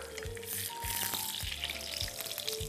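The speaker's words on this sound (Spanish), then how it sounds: "voy a ir friendo de uno en uno, mientras esto se me fríe" Breaded veal cutlets (milanesa) frying in a pan, a dense, hissing sizzle that runs continuously with a few low knocks and scrapes mixed in, close and fairly loud, with no talking.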